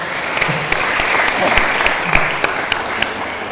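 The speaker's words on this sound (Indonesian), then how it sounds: "tepuk tangan buat Kiai Nasim" An audience claps for Kiai Nasim at a National Santri Day gathering, a steady even applause with a few sharper individual claps standing out near the front.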